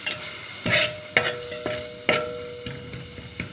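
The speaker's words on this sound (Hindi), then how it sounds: "और इसमें जो बकाया सब मसाला जात हैं वो हमने ऐड कर लेना है और उनको कुछ देर के लिए पकाना है" Spices and masala cooking in a hot pan for a rice and chicken kabab dish, with a close, steady sizzle broken by about half a dozen sharp scraping stirs.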